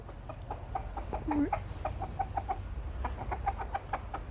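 Chickens clucking softly in a small backyard flock, a run of short repeated clucks at moderate distance over a low steady background hum, with no voices.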